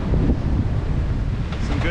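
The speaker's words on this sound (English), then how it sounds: "there's a good surf you can hear" Wind buffets the microphone over broad, steady ocean surf while offshore sailing, heading from Brazil to Uruguay; a constant rushing roar with no clear break, and faint voices may sit underneath.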